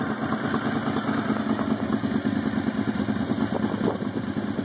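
A Honda VFR 750 motorcycle with an upgraded charging system runs at a steady idle, its engine close and loud with an even, continuous mechanical rumble throughout.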